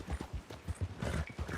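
Horse hooves gallop in Red Dead Online, a rapid rhythmic drumming of clip-clop beats, close and distinct, with no talk over them.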